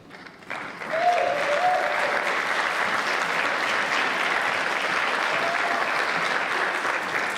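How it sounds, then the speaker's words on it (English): An audience at a pageant bursts into sustained applause for the contestants on stage, rising quickly after a brief voice and holding a loud, even roar of clapping to the end. "One big round of applause there for all of our ladies."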